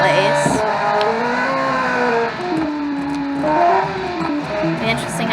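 V8 four-wheel-drive rally car with a dual-clutch gearbox, racing in a 2012 small-island rally; a steady engine drone rises and falls through gear changes, with a voice talking over it.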